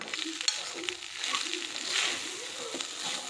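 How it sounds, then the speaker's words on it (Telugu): Cooked rice stirred into a mint masala in a hot pan, a soft scraping and gentle sizzling that swells and fades in slow strokes, close and fairly quiet. "అన్నము పొడి పొడిగా తీసుకుని ఇందులోకి వేసి బాగా కలిపేద్దాము."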